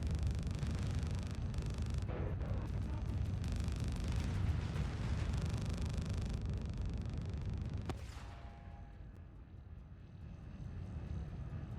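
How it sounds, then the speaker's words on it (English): Space explosions in the video game Void Crew: a loud, dense rumbling roar that holds for several seconds, then drops away into a quieter, thinner hum with a faint tone. "these are pretty satisfying space explosions"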